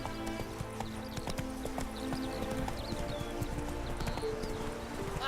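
Roach the horse trots along in The Witcher 3, with steady, close clip-clop hoofbeats over a constant ambient game background and an occasional faint whinny.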